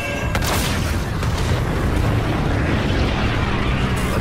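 A De-Atomizer strike detonates in Call of Duty: Infinite Warfare, a loud, dense, sustained blast with a deep rumbling roar that fills the whole stretch, with faint game chatter beneath.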